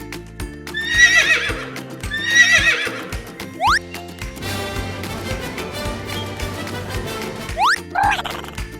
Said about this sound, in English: It's a brown horse.